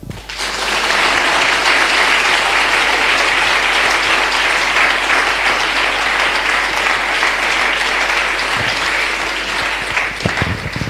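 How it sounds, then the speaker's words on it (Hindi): A church audience applauding loudly and steadily, a dense wash of many hands clapping close by for about ten seconds before tapering off, with a few faint voices underneath. "तालियां"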